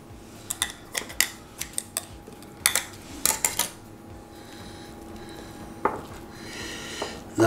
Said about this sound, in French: Je vais couper ce qui dépasse.